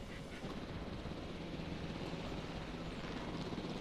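A helicopter in the Jurassic World Evolution video game drones with a steady, dense rotor and engine roar that holds constant at moderate loudness throughout, with no talk.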